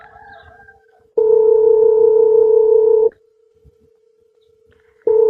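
Loud electronic ringback tone on a phone line: a long steady beep, a pause, then the tone starts again.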